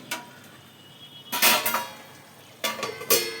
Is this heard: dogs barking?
no